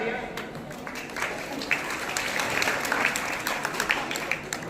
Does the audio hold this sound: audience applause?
yes